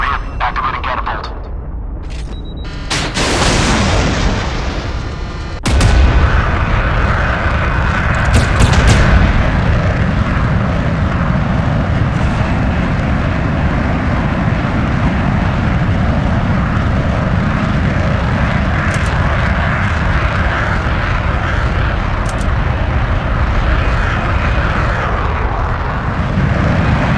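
In the Modern Warships game, an aircraft catapult fires with a sharp burst, then a loud, sustained jet engine roar builds and holds, with occasional radio-style voice chatter over it.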